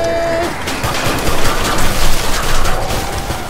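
Pistol gunfire in Killing Floor 2 comes as a loud, dense burst of shots layered over chaotic game noise, with no talk.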